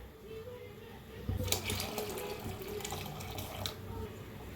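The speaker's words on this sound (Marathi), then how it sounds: "आता ओतूया ह्याच्यात दूध गरम करून घेतलेलं आहे." Heated milk is poured into a pot of cooking kheer, a splashing liquid stream starting after a quiet moment and running steadily, moderately close, fading near the end.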